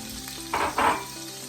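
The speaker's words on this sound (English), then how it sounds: "And now we're going to start adding stuff fast and furious. We're going to do our celery," Chopped celery goes into hot flavored olive oil for jambalaya, and the pan gives two quick loud bursts of sizzling frying, close and alone, before settling to a steady low crackle.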